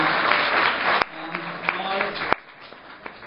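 Applause for speakers at a college event at Swami Shraddhanand College, University of Delhi, a loud burst of clapping that drops off abruptly after a second, leaving thinner scattered claps.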